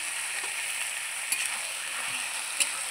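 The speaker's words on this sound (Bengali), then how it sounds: "এবারে আমি দিয়ে দেবো সুন্দরভাবে ধুয়ে রাখা মাংস। এটা রাজহাঁসের মাংস।" Goose meat sizzles in a pan while it is cooked village-style outdoors, a steady bright frying hiss with two quick clicks of stirring and no talk.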